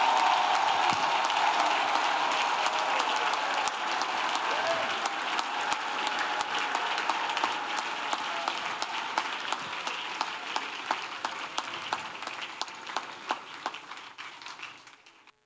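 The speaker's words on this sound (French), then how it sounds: "Let's clap for Jesus Christ." A church congregation applauds and claps continuously at a revival service, a dense steady wash of many hands close by that gradually thins toward the end, with no talk over it.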